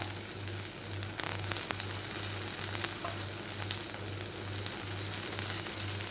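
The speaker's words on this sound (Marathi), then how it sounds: "आता आपण परत ह्याच्या चारी बाजूला आपण ऑइल सोडून घेऊया" A malpua, a sweet batter pancake, shallow-frying in oil poured around its edges: a strong, steady close sizzle with crackles over a faint pulsing low hum.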